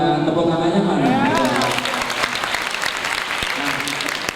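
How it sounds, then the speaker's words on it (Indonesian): Applause fills an Indonesian inspirational lecture hall after a chanted refrain. A voice and music fade out beneath the clapping, which then carries on dense and steady. "Tepuk tangannya mana?"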